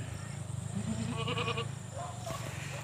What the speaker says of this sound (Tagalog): Ayun po yung mga kambing natin, andyan.